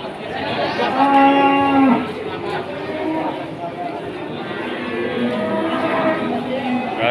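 A cow gives a loud, drawn-out moo up close at the Pon Ambarawa cattle market, followed by fainter lowing and murmuring voices in the background.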